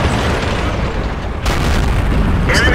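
Explosion of an enemy vehicle in a tank video game: a loud, dense blast rumble that swells sharply midway and stays heavy to the end, with a brighter burst near the close.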